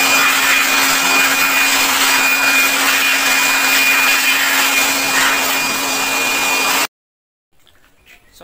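An air blower drying the washed engine bay of a Toyota Hilux, a loud steady whooshing roar with a constant whine, running close for several seconds before cutting off abruptly into near silence.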